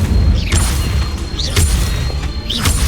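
Magic spells in the Hogwarts Legacy video game fire in three loud bursts about a second apart. Each has a booming crash and a bright whoosh over a dense, rumbling background.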